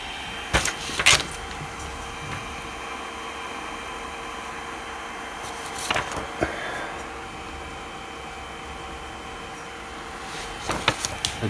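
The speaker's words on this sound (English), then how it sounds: "Move your printer head to the next corner and repeat the same" A 3D printer's head and bed travel to a corner, giving a steady low motor whir under faint background hiss, with short bursts of clicking movement near the start, the middle and the end.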